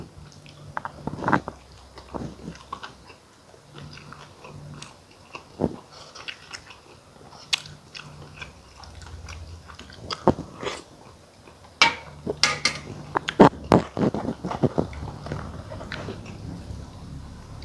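Close, crunchy chewing and biting while eating om khi lek, a Thai cassia-leaf curry, with irregular wet crunches growing denser toward the end and no talking.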